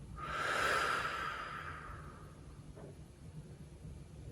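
One deep breath during a yoga practice: a long, loud exhale through the nose that slowly fades, then quiet room tone with a faint second breath.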